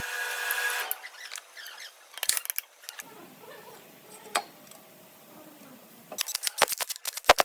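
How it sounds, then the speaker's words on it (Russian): Front covers for the crankshaft and camshaft being screwed onto a Mercedes OM460 12.8-litre engine during an overhaul, heard as close, sparse metallic clicks and ratcheting scrapes that turn into a denser burst of clinks at the end, with no talking. "мы закрутили крышечки передние"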